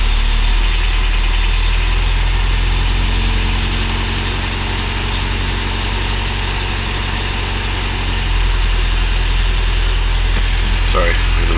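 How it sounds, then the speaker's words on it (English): A cold car engine, its fuel pressure regulator disconnected, idles loud and close in an even, unbroken drone with a deep low hum and a slight rise in pitch over time. "You can also see how it's idling up now when it's cold."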